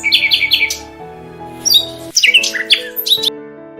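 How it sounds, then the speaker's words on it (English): Bulbul bird calls: bright, sharp chirps and squawky whistles in short repeated bursts, close and clear over a steady low tonal background. "bulbul."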